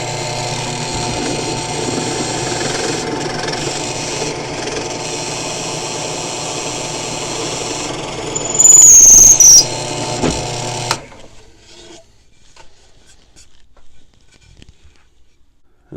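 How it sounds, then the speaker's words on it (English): A drill press runs with a steady motor hum and grinding as the bit cuts through wood with a backing board behind it, then a loud burst before the machine winds down into quiet. "there is the hole with the backing board on the drill press"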